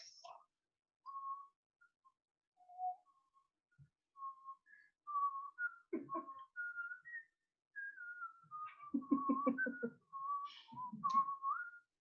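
During a meeting, a lone person whistles a meandering tune in clear, pure notes, close and fairly quiet, with a few soft murmured voices breaking in between phrases.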